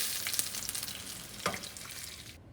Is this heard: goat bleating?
no